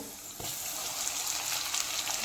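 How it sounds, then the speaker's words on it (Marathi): Grated coconut roasts in ghee in a pan over a low flame for narali bhat, a faint, even hiss of frying with a soft stir near the start. "नारळ हे छान असा तुपावरती भाजून घ्यायचं आहे आपल्याला"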